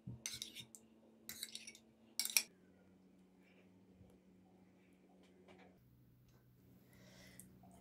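Yogurt salad with beet leaves spooned onto a serving plate, a few quiet clinks of spoon on dish in the first two seconds, then a low steady hum with faint scraping.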